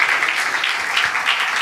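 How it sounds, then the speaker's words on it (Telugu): Congregation in a church breaking into loud, dense clapping, a steady wash of many hands at close range with no voices on top. "గట్టిగా చప్పట్లు కొడదాం ఒకసారి."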